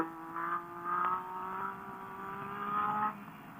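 A motorcycle engine revs and holds a steady tone during a wheelie, heard at moderate distance with pitch swells rising and easing.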